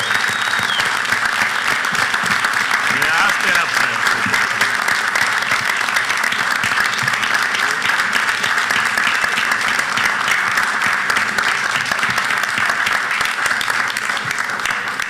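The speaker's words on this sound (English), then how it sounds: "We have got to give her a round of applause." Sustained applause from a meeting audience honoring a staff member at a university board of supervisors session, steady dense clapping that fills the whole stretch without pause.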